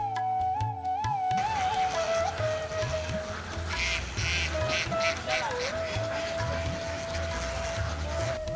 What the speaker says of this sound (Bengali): এই গ্রামের তরুণ সাকিব হোসেন আকাশ নিজ বাড়ির আঙ্গিনায় গড়ে তুলেছেন গরু ও হাঁসের খামার।